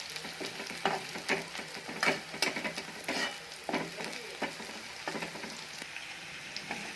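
Green chillies and onion fry in a pan for a safflower-leaf vegetable dish, with a constant sizzle broken by repeated scraping stirs of a spatula against the pan, close and moderately loud.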